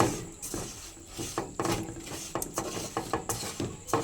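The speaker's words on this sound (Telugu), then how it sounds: "దీన్ని ఇలాగా కలుపుకుంటూ పాకం వచ్చేంత వరకు తిప్పుకుంటూ చూద్దాం" A spoon stirring grated coconut and jaggery in a pan, with repeated scraping clinks and knocks against the metal in an uneven rhythm.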